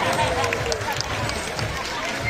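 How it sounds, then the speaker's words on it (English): Audience applause fills the stands at the sea lion show at Manila Ocean Park, a loud, steady wash of clapping and crowd noise that holds without a break. "How about a round of applause for Sea Lion brand?"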